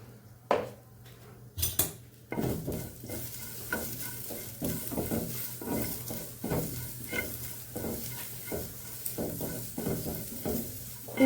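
Salted cabbage leaves frying in a pan, a steady sizzle broken by repeated stirring scrapes and clinks of a utensil against the metal pan, close and without talk.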